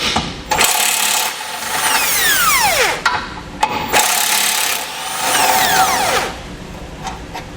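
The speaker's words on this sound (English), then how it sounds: "we'll grab an 18mm socket and pull both of those out" A power tool spins an 18mm socket to remove the tow hook bolts on a 2016 Chevrolet Colorado. Two close, loud bursts of a couple of seconds each have a whirring whine that winds down at the end of each run.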